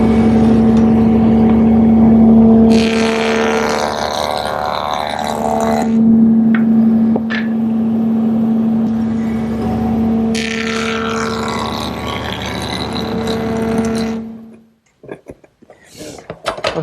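A woodworking shaper fitted with a bead-profile cutter hums with a steady motor whine as wood pieces are run through it in two long, rough cutting passes, then the machine spins down near the end.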